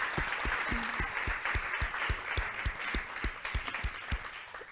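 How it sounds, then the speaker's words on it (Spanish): Audience applause at a conference session, a steady round of clapping with distinct nearby hand claps over a wash of crowd clapping, moderately loud and without talk. "ahora ya os damos, bueno, un aplauso, por favor, por supuesto"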